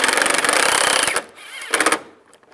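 Screws driven into the condenser cover of a 1999-2005 Volkswagen Jetta during an A/C condenser replacement, a loud buzzing power-driver run that stops, then a second short burst, close up.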